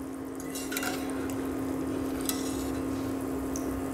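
Matar kachoris frying in hot oil give a soft, steady sizzle under a constant hum, broken by a few light clinks of a utensil against the pan.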